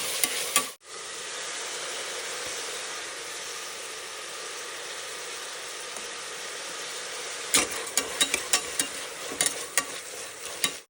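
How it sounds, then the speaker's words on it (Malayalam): Chopped onions fry in a pressure cooker for egg biryani, giving a steady close hiss that runs almost the whole time, with a run of sharp spoon scrapes and taps from stirring near the end. "ഇതിനുള്ള ഉള്ളിയെല്ലാം എടുത്തതിന് ശേഷം നന്നായിട്ട് ഇളക്കി കൊടുക്കും"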